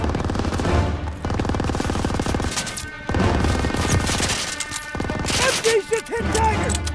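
Sustained machine gun fire in a Call of Duty: WWII battle, with dense rattling bursts broken by brief pauses, loud and close, with shouting voices mixed in.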